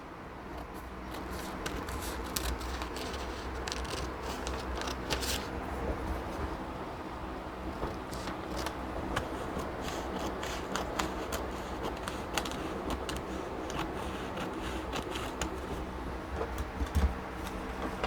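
Scissors cut an armhole out of a paper sewing pattern, a close run of crisp snipping and rustling paper that repeats irregularly and keeps going throughout.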